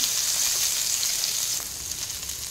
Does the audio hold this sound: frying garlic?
yes